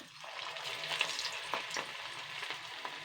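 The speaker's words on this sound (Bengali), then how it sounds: "আমি একটা একটা করেই ভেজে তুলবো।" Puffed rice chops sizzle steadily in hot refined oil in a pan, a continuous close, even frying crackle with no talk.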